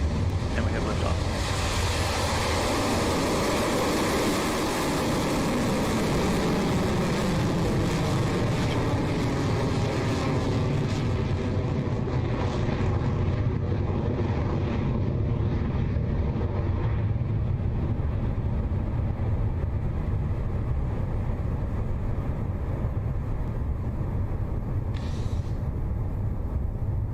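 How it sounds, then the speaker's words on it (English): Rocket Lab Electron rocket lifting off from Launch Complex 1 on the Mahia Peninsula, New Zealand, at night: a loud rushing, crackling roar at first that gradually fades and thins into a distant rumble, with wind noise. "Our 45th Electron is now in the air, having successfully lifted off the pad at Launch Complex 1."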